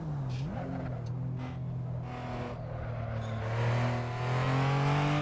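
A Toyota Supra engine in the racing game Assetto Corsa pulls hard through the gears, a loud droning rev that drops at a quick shift, then climbs steadily and swells toward the end.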